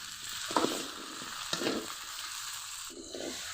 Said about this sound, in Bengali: গ্রেট করে রাখা আদা, কিছুক্ষণ কষিয়ে নেব।